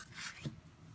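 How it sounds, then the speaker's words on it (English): A bone folder is drawn firmly along a crease in scored cardstock, a short close rasping rub that swells and fades with a brief soft thump near the middle, no voices. "Use your bone folder, make a big noise."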